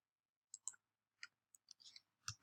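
Sparse computer keyboard keystrokes click close by in quiet surroundings, a few isolated taps followed by a quicker cluster of clicks.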